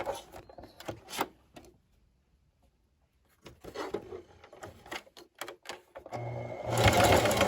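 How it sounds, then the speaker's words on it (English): A home sewing machine zigzag-stitches a folded edge on a fabric face mask, running in several short bursts with pauses between them and ending in a louder stretch. "I'm going to fold this over and go ahead and zigzag that in place"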